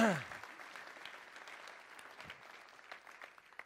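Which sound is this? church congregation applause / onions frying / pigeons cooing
church congregation applause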